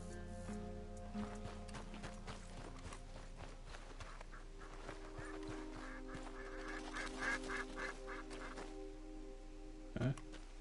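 Seagulls call in the video game Red Dead Redemption 2, a scatter of honking, squawking cries over a steady background ambience, with a louder burst near the end.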